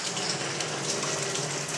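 Steady rain during the rainy season, a soft, even hiss of drops falling on surfaces, continuous and fairly faint without any voices.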